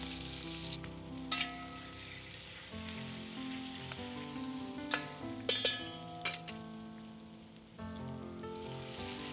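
Chicken sizzles in mustard oil with ginger garlic paste, a steady frying hiss with occasional stirring clatters. Faint tonal background music plays underneath.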